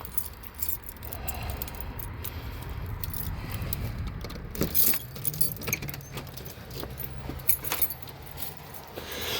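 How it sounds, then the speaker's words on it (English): A bunch of keys jangles and clinks in short bursts, close to the microphone, as they are pulled out in front of a door at a cluttered shop, with faint vehicle rumble underneath. "Get my keys out."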